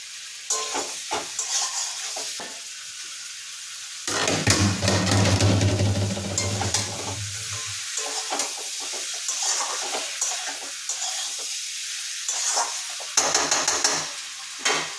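Meat stir-fries with spices in a hot pan for a dish of cooked meat, giving a loud crackling sizzle with repeated stirring and scraping strokes, briefly swelling to a heavier fry before settling into steady spatula work.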